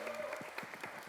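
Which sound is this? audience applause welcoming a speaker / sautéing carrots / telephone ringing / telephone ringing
audience applause welcoming a speaker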